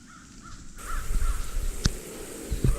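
Crow caws ring out against an outdoor wetland swamp background hiss, heard from a bird blind, with a couple of sharp clicks or snaps standing out nearby.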